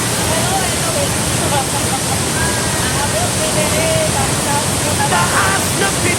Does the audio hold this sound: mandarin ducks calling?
no